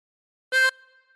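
A single blown note on a tremolo harmonica, hole 9, sounding clear and close with a short strong attack that fades into a lingering tail.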